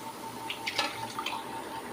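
Mutton cooking stock being poured into a pot of seeraga samba rice for mutton biryani, a soft close trickle with a few brief splashy bursts, no talking.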